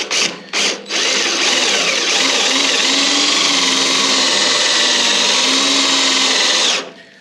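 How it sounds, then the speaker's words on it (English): A power drill drilling through metal on a beach buggy chassis whines loudly and steadily for several seconds after a couple of short bursts, then stops abruptly. "The trick with this is to not drill too far"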